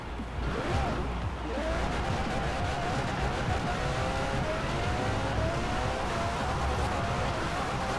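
An engine on a vehicle driven in a video game hums steadily, with rising tonal revs and shifting pitch sweeping up and down over a constant low rumble throughout.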